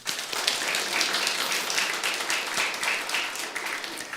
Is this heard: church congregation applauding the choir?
yes